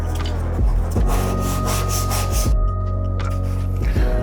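A sanding block works over body filler on a car panel, producing a loud, continuous abrasive rubbing with strong low thumps as each stroke changes direction, close up and without speech.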